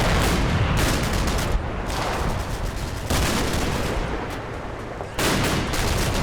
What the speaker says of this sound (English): I'm glad I got the mortar rounds in here